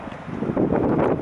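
Strong wind buffets the microphone with a low, rumbling roar that swells and gusts, loud and close, beside a Land Rover Discovery Sport 2.2 SD4 HSE Luxury in the countryside.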